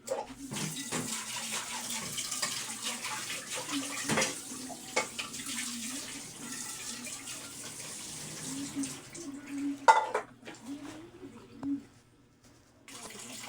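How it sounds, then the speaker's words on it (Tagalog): Running water splashes steadily from a tap while a cooking pot is rinsed and scrubbed, with a few brief clunks near the end before it quiets. "Hugas tayo ng kaldero."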